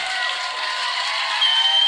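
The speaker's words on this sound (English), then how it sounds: "People in the one room clapping and having a good time." A room full of people claps and cheers, a steady dense patter of applause heard throughout at moderate loudness.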